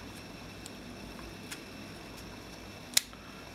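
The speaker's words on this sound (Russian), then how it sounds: "То есть уже сработал, затвор сработал." Shutter of a Soviet Vega 2 spy camera with an aluminium body fires once in a sharp, close click, preceded by a few faint mechanical ticks against quiet room tone.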